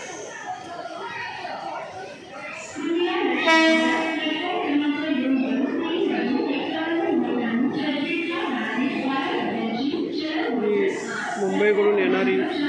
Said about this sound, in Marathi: मुंबईकडून येणारी ट्रेन आहे,